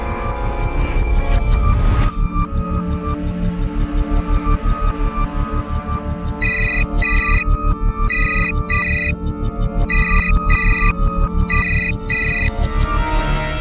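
A telephone rings in repeated bursts of bright electronic trills over a loud, steady musical score, with a sharp hit at the start; the rings come in short paired pulses that keep returning.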